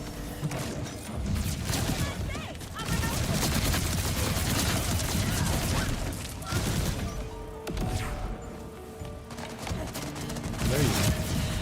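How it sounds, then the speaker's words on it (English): SMG fire in the video game Borderlands 4 crackles in dense, rapid bursts that pound on almost continuously, with a couple of brief lulls between volleys. "With how many rounds you get off with the SMG, it's crazy."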